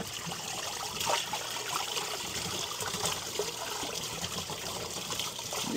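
Tap water runs steadily over saltwater aquarium equipment as it is rinsed, a continuous close splashing trickle with small irregular spatters throughout.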